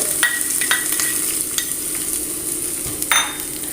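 Ginger, green chillies, finely chopped onion and curry leaves sautéing in a pan, with a steady sizzle of frying and repeated scraping stirs of a spatula, close and clear with no talk.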